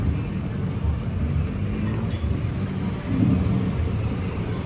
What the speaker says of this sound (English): And also there's heavy traffic here